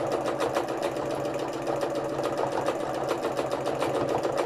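A sewing machine free-motion embroidering through thick hand-painted fabric runs continuously with a rapid, rhythmic mechanical thrum, close and steady throughout.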